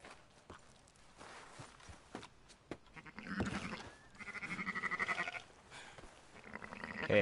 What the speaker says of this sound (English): Shut up, sheep.